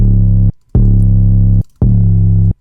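A distorted 808 bass driven hard through a saturator plays three loud, sustained notes with short gaps between them, thick and gritty with no other sound.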